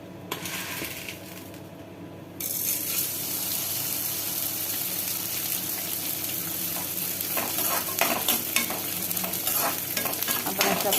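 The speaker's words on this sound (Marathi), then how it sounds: "प्रकारे हा सगळा डिंक भाजून घेऊया आता तो डिंक हा तळून झालेला आहे" Edible gum (dink) frying in ghee in a pan while being stirred, a continuous close sizzle with scraping and clinking of a spoon against the pan, growing busier after a short quieter start.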